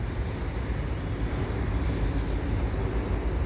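CP freight train with a DPU pusher unit rolling past at Dorval, a steady broadband rumble of wheels and cars that holds loud and continuous throughout with no voices.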